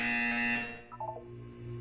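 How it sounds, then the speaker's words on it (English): A Portal 2 test-chamber buzzer sounds once, a short bright electronic tone that cuts off after about half a second, followed by faint low hum. "You will hear a buzzer. When you hear the buzzer, look down at the floor."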